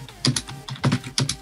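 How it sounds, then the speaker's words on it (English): Quick bursts of computer keyboard typing, a few clustered clacks in uneven groups, close and clear with no one speaking. "My goodness, I suck at typing."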